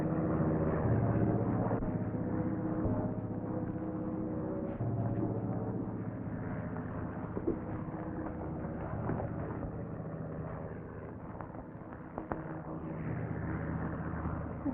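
A propeller airplane flying overhead in a 1940 western film, a steady droning engine hum that stays moderately loud throughout without speech, with faint swells as it passes.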